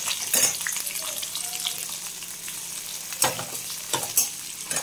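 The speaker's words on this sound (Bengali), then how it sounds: "এবার ভালো করে ভেজে নেব" Green beans and tomatoes fry and are stirred in a pan for a home-style vegetarian bean dish, giving a steady close sizzle with a few louder scraping stirs and no talk.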